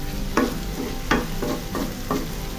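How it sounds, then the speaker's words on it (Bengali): Bottle gourd peel fries in a pan over medium heat, with a constant sizzle under about five distinct scraping stir strokes spaced roughly half a second apart, close and clear. "লাউয়ের খোসাটা ভেজে নিব"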